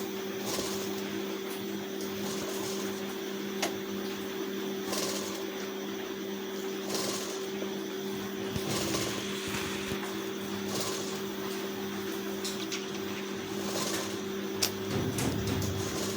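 A sewing machine stitches piping on a blouse, running in a steady low, even whir with a faint regular tapping and a constant hum, close and moderately quiet with no voices.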